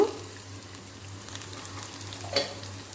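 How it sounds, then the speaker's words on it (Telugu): Urad dal sizzles and fries steadily in oil in a pan along with crushed garlic, a soft continuous crackle with a low hum beneath and one brief clink of a utensil near the end. "మినపప్పు మాత్రం బాగా వేగాలి"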